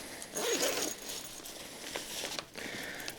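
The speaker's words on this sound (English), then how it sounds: "you have the front zipper here that I have not talked about" Front zipper on a Patagonia Black Hole duffel bag, splash-proof fabric, pulled open in a quick close rasping run, followed by softer handling rustle of the bag with no talking.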